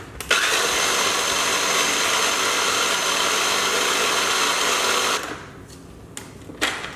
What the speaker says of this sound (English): now I'm just gonna go ahead and chop these up in my food processor